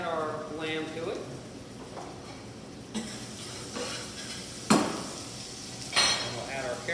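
Ground lamb for a St. Patrick's Day shepherd's pie goes into a pan, with soft stirring, scraping and a few sharp clanks of a utensil on the pan over a faint sizzle.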